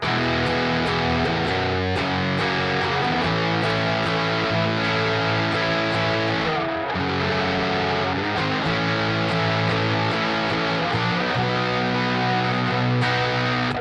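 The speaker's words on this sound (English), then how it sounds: "Good classic distortion sound." Heavy distorted electric guitar playing chords continuously, a thick saturated tone with brief pauses between phrases, loud and close.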